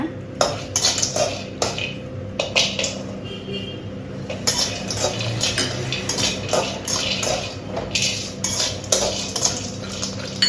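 Mixed ingredients are stirred and dry-roasted together in a pan, with a spoon scraping and clinking steadily against the metal at close range and continuous clatter throughout.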